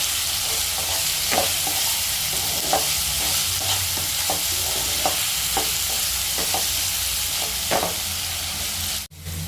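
Potatoes fry in hot oil with salt and turmeric, a steady sizzle broken by repeated scraping stirs of a spatula against the pan, close and clear with no voices.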